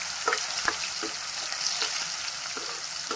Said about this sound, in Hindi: इसको अच्छी तरह से लाल करना है प्याज को